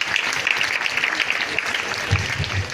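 A church congregation breaks into steady, crowded applause that holds evenly throughout, with a few voices rising briefly near the end.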